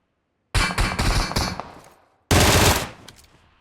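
Gunfire from the PUBG Mobile video game: a rapid, loud automatic burst that tails off, then a short pause and a second sharp burst.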